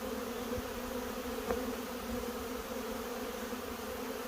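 A swarm of honey bees drones in a steady, low, even buzz with a faint click partway through, fairly quiet and continuous for a few seconds.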